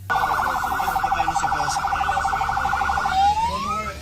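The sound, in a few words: ambulance siren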